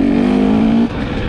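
A 2022 KTM 300 EXC two-stroke enduro motorcycle pulls away under throttle, its engine holding a loud, steady drone close by for under a second before dropping off sharply.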